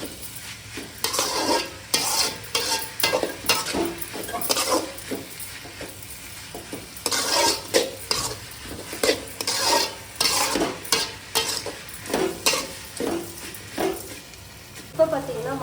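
Raw mango pieces sautéed with turmeric in a pan, stirred with a steady run of scraping, clattering strokes over a soft continuous sizzle, close and fairly loud throughout.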